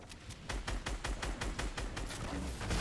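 Automatic gunfire in Fortnite Chapter 1: a rapid, evenly spaced string of about a dozen sharp shots, fairly close and steady, with no voices over it.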